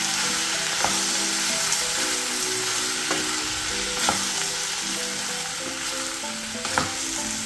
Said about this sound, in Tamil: இடக்கிட அடிப்பிடிக்காமல் கிளறி விடணும்.